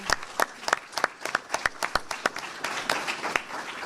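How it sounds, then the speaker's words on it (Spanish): Scattered, uneven clapping from a small audience thanking a teacher, a loose patter of individual hand claps that thickens slightly toward the end. "Un aplauso al maestro."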